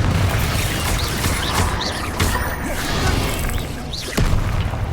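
Fire-spell explosions in Hogwarts Legacy, a loud continuous roar of blasts and crashing impacts with whooshing bursts, dense and close throughout, with a sharp crack near the end.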